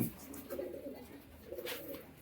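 A pigeon, a tumbler (baji) breed, coos softly in two low, rolling phrases, fairly near but quiet, with faint rustling between.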